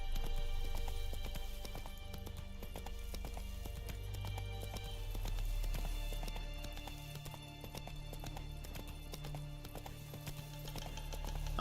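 Steady clip-clop of horse hooves trotting along in the video game The Witcher 3, with rhythmic thuds and a faint game-like ambience behind; no talking.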